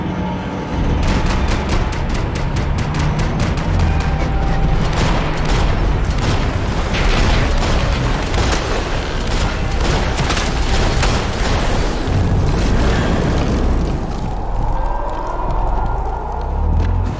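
Max Payne 3 firefight: loud, rapid volleys of gunshots at close range, overlapping with booms and impacts in a continuous barrage that runs nearly the whole time.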